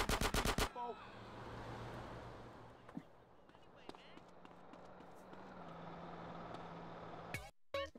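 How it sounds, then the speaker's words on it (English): Gunfire in the video game GTA: San Andreas, a quick loud burst of machine-gun shots at the start, then quieter game ambience with a few faint pops and a short burst at the end. "Bro, he shot me twice."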